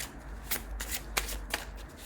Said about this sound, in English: I'm not the best shuffler in the world